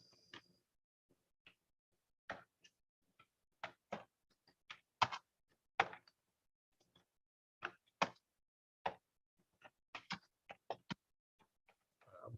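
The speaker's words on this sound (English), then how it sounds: "I'm typing in where we're going." Sparse, crisp key taps on a computer keyboard, irregular single clicks and short clusters spaced by pauses, close and fairly quiet in a still room.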